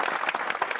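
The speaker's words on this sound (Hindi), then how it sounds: "तालियां" A short burst of dense clapping from a crowd on the TV comedy show Bhabi Ji Ghar Par Hai, steady and fairly loud throughout.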